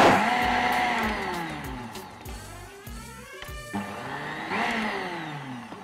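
A blender whirs steadily through thick tomato sauce, its motor pitch wavering as the load shifts, close up and fairly loud, with no voices over it.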